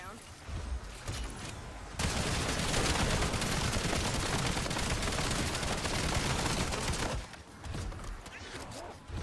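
Sustained full-magazine gunfire in Call of Duty: Black Ops zombies, a loud continuous volley of rapid shots lasting several seconds, with quieter game noise and a voice before and after.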